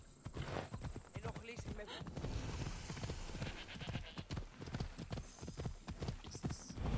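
Rapid horse hooves clip-clop in Assassin's Creed Odyssey, a continuous galloping rhythm of sharp thuds running throughout, mixed with other game sounds and voices.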